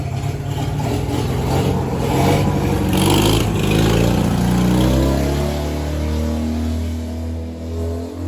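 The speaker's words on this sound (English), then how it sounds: "That's my neighbor. He runs a lawn tractor." A lawn tractor's small engine runs steadily throughout, its low rumble rising briefly as if revving, then settling back to an even drone.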